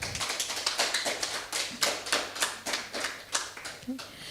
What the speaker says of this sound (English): please give a round of applause to Professor Dr. Ting for exceptional contribution